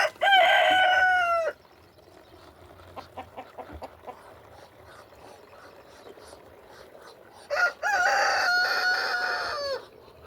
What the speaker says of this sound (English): Hey, is there a chicken in the yard?